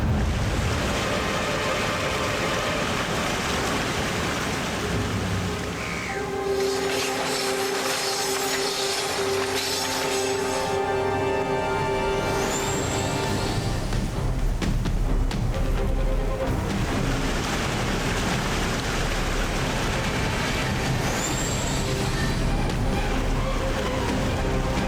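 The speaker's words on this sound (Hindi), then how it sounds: "रुद्रा, वो देखो आगे एक झरना है।" A steady, dense roar of rushing water fills the scene continuously as a train passes near a waterfall in the desert, with a rumbling mechanical undertone and brief shifts in texture, loud and unbroken throughout.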